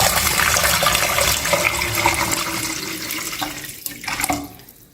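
Yakhni stock poured into a pan of manchow soup, a steady close splashing liquid pour that runs for several seconds, then thins and trails off near the end.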